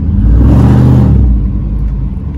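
A pickup truck with its catalytic converters removed revs hard and loud, a deep, throaty roar that swells for about a second, then drops back to a rough, rumbling idle.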